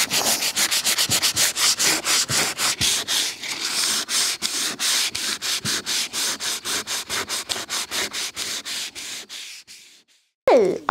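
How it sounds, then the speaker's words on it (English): Sanding a round tabletop made of hardwood flooring, brisk back-and-forth rasping strokes repeating in a quick steady rhythm close by, stopping near the end before a short final scrape. "I've been sanding, it's nice and smooth."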